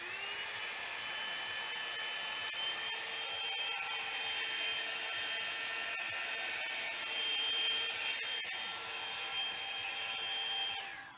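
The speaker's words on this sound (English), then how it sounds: "And I'm going to try this hair dryer thingy." A hair dryer blowing steadily in a garden setting, a continuous high-pitched whirring airflow that holds for about eleven seconds before cutting off near the end, with a few faint clicks along the way.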